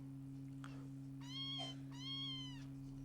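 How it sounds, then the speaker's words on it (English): A sampled cat meow is fed into a Behringer Neutron synthesizer, giving two drawn-out, tonal meows with a brief chirp before them, heard over a constant low electronic hum. "So there's the cat."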